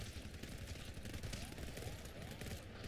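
Rapid gunfire bursts in the co-op shooter video game GTFO, a dense, continuous rattle of shots filling the whole stretch at a steady moderate level with no clear pauses.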